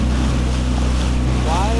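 Steady droning engine of an outboard motor on a 13-foot skiff running continuously in a Texas marsh, with water and wind noise mixed in, loud and close throughout.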